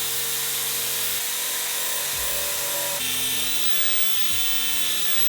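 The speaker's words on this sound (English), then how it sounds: "we have started sanding down the bottom of the car" A loud, continuous whine and grind of a power sander sanding rust off a car's underbody, close up and unbroken, with slight shifts in pitch.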